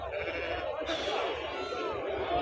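Sheep bleat amid a noisy crowd at a livestock market in Anantapur, their calls blending into steady background chatter and activity nearby.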